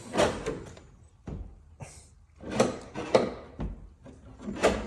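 Several loud wooden knocks and bangs, a door being pushed and rattled shut in bursts across a few seconds, close by.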